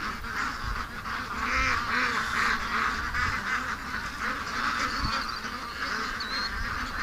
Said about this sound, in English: there's a bunch of ducks in the creek